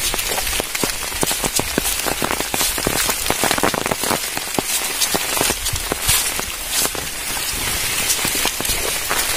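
The first monsoon rain of the season in Rajapur, Konkan, falls hard and close, a dense continuous patter of drops drumming on surfaces for the whole stretch with no talking.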